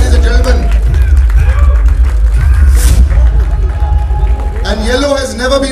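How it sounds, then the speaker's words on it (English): Audience applause at the Mumbai trailer launch of Kisi Ka Bhai Kisi Ki Jaan, with loud, dense clapping and crowd noise throughout while an announcer speaks over it. "Jagavati Babu, big round of applause, ladies and gentlemen."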